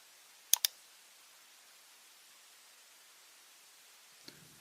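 Two quick computer mouse clicks close together in engineering software, then one faint click near the end, alone against a quiet hiss.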